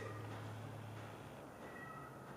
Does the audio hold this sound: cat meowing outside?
yes